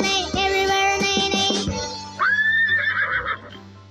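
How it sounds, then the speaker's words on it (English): An animated horse in a children's farm song gives a loud, close, drawn-out whinny that falls in steps, followed by a second higher neigh over light music. "With a neigh neigh here and a neigh neigh there"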